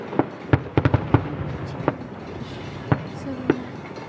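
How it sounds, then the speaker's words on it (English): Fireworks go off at night in Scranton, with a series of sharp bangs and pops scattered through the clip, some near and some farther off, while people talk in the background. "Fireworks over there too."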